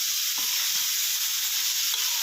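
Vegetables, baby corn and chili are stir-fried in a hot pan for a mala shrimp dish, giving a loud, constant close sizzle with a few soft stirring scrapes and no talking.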